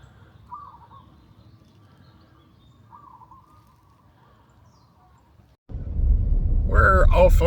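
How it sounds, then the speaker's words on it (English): Faint, scattered bird calls and coos at sunrise in Hawaii over a quiet background, then a sudden loud rumbling wash of noise and a voice take over near the end. "Birds are all chirping and doing their thing."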